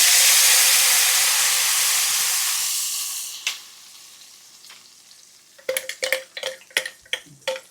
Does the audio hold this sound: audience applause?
no